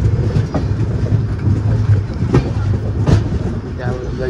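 A local train rolls through Wadi junction railway station, a loud, close, continuous rumble with rhythmic wheel clicks and a few sharper clanks as the cars pass.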